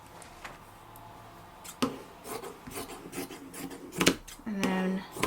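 Scissors snipping through scrap fabric to cut it into strips for a patchwork cat wall hanging, a few sharp rasping cuts close by, separated by quieter handling rustles.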